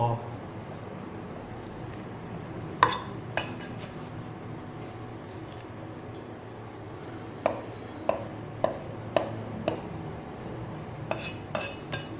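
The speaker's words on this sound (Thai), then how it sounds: "ผมก็จะวุ้นเส้นมาหั่นก่อนนะครับ" Soaked glass noodles are chopped on a cutting board, about a dozen sharp knife taps in scattered bursts, the strokes close and distinct with light clinks over a low kitchen background.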